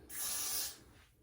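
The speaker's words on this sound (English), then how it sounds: "I just use the spray." A short hissing burst of adhesive spray applied to the lace of a front-lace wig, close and steady for about half a second before tapering off into quiet.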